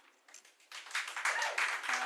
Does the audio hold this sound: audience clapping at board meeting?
yes